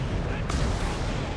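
A rocket artillery barrage in the strategy game Company of Heroes 3, a dense rolling rumble of explosions with a sharp blast midway, loud and continuous beneath a commentator talking.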